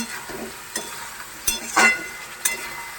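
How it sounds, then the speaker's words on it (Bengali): Potatoes sauté in a pan with ginger, chilli, garlic, onion, cumin paste, green chilli paste and tomato masala. A soft steady sizzle runs throughout, broken by a few sharp spatula scrapes and taps. "এবার মশলাটাকে ভালোভাবে কষে নিচ্ছি।"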